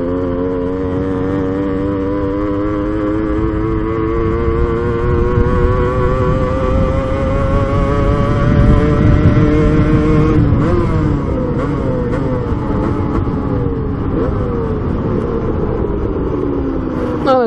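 A Kawasaki KDX 125 dirt bike engine idles and putters steadily nearby, rising slightly in pitch midway with a few sharper revs before settling back into a rough idle.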